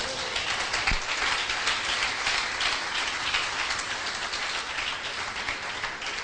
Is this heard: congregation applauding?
yes